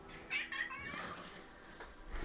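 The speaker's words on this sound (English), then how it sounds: "But we've got a cat." A faint cat meows softly once or twice, high and drawn out, in a quiet room.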